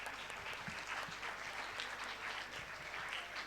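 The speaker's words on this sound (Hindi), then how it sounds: "एक बार उन सब के लिए तालियां।" An audience at a Hindi debate competition applauds the participants, a continuous even wash of clapping at low, distant-sounding volume.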